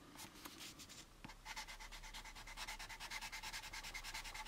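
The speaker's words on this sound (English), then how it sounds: "I'm just cross sanding right in between the grid lines." Sandpaper cross-sands the gloss coat on an AMT U.S.S. Enterprise model kit, starting with scattered strokes and settling into quick, rhythmic back-and-forth scratching, close and crisp.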